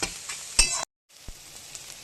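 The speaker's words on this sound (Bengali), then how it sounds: "এরকম করে থোরটা ভেজে নেবে" Chopped banana stem sizzles in hot oil in a pan, a steady close hiss with faint clinks, cutting out briefly before the frying resumes more quietly.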